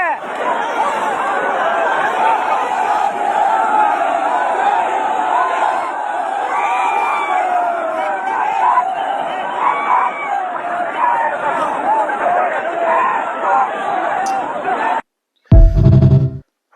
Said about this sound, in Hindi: भाई साहब बहुत ज्यादा भीड़ है यार, बहुत ज्यादा यार